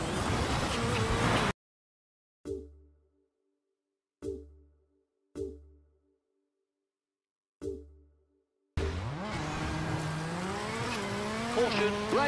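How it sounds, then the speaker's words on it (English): A rally car in the WRC6 video game runs on a punctured tyre: engine revs and tyre noise open and close the stretch, broken by near-silent gaps with a few short, fading knocks in between. "One of our tyres just punctured."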